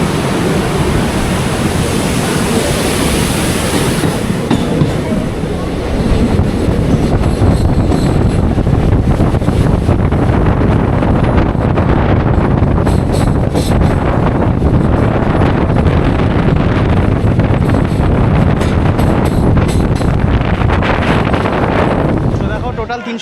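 A train crosses the Farakka bridge over the river on the run from Kolkata toward Malda, giving a loud, steady rumble mixed with buffeting wind noise that lasts throughout.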